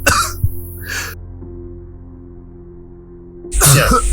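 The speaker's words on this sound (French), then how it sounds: "Évite de tousser dans ma main." Coughing close to the microphone in a room during lockdown: a few sharp bursts at the start and another loud burst near the end, with a quiet hum in between.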